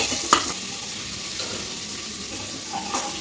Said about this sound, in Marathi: कांदा आम्ही चांगला तळून घेतो फ्राय करून घेतो